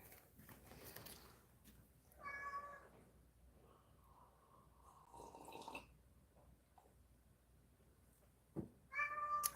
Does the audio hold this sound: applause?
no